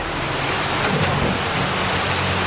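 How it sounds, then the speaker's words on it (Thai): Rain falling outdoors, a dense steady hiss of drops filling the whole stretch, loud and even with no pauses. "โอ้ฝนก็ตก"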